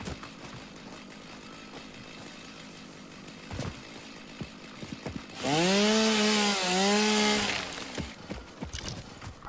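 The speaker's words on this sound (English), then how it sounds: "you get to pull out the chainsaw to do tree murder" A chainsaw cuts trees in the Satisfactory video game, with a loud whining engine burst of a few seconds that rises and dips in pitch over quieter game ambience.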